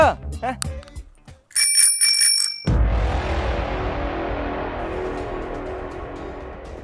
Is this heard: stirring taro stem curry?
no